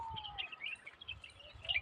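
Small birds chirp and tweet in quick, scattered bursts, fairly faint and continuous, with a low rumble of background noise underneath.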